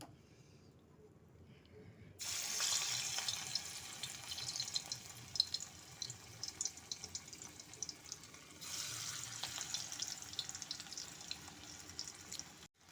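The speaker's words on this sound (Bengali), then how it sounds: "তেলটা গরম হয়ে গেছে, এখন আমি পকোড়াগুলো ভেজে নেব।" Pakoras made with mustard flowers fry in hot white oil, a loud steady hiss and crackle that starts abruptly after a quiet opening, dips briefly, then swells again.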